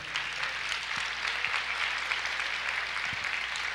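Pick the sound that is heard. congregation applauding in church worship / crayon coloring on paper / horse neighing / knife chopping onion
congregation applauding in church worship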